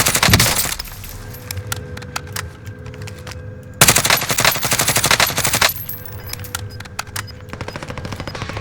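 Rapid automatic gunfire rattles in Call of Duty Warzone, with a loud opening burst, a sharp cracking salvo midway and steady trailing shots, all dense and close with no talking.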